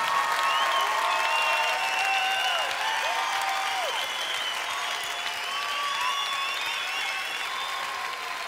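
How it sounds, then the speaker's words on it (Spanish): A congregation applauds during a Spanish-language Christian worship service, with steady clapping under bright, sliding cries or whistles from the crowd, sustained throughout. "Oh, dale al Señor un aplauso como Él merece."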